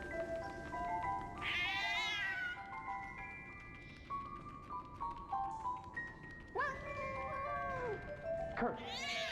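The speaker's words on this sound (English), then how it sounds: "Why is that cat meowing?" A cat meowing in the WWI video game 11-11 Memories Retold, several drawn-out, rising and falling meows at moderate level over a sustained musical score, with no talking.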